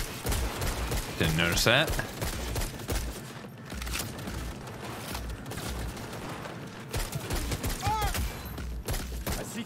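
Rapid gunfire bursts and scattered shots rattle through a Cyberpunk 2077 shootout, dense and fairly loud throughout, with voices talking over the fighting.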